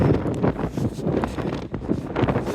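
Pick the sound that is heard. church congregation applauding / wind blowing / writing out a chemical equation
wind blowing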